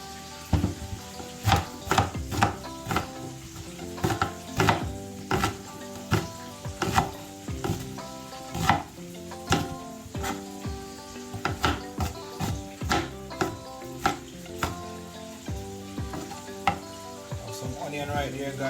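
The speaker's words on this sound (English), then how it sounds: "Right here, guys, I'm cutting up some onions." Onions are chopped with a knife on a board, a run of sharp, fairly regular close taps with a steady kitchen hiss underneath and music-like tones in the background.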